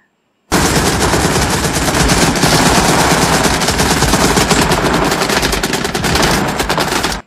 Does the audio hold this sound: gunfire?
yes